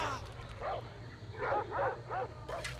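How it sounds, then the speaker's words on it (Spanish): A dog in Far Cry 3 barks repeatedly in a quick run of four or five barks at moderate distance, over steady low game ambience. "Hay otro perro."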